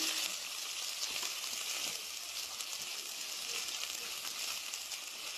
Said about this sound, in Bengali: তেল গরম হয়ে গেছে, গোটা জিরে ফোড়ন, টমেটো কুচনো আর কাঁচা লঙ্কা চেরা, আদা বাটাটা দিয়ে দিলাম।